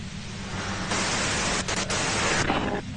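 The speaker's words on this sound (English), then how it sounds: "If you've got something really important to say, you can do it through the white noise." Loud radio white-noise static in the video game Disco Elysium, a steady broadband hiss that swells at about one second and is cut by brief dropouts near the middle before easing off at the end.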